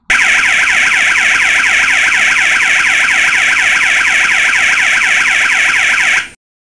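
A loud electronic Tucano alarm siren wails in rapid, repeating up-and-down sweeps, steady and close, then cuts off abruptly.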